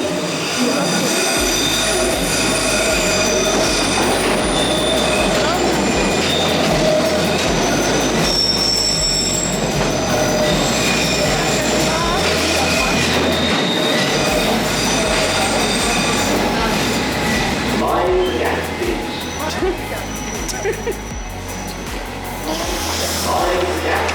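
A London Underground Northern line train to Richmond rumbles into a station, wheels screeching and squealing loudly against the rails, with low rhythmic clatter and a long drawn-out metallic whine.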